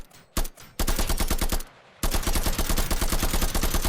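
Bursts of rapid gunfire in a survival video game, loud and close, with a short pause between volleys before a sustained stream of shots.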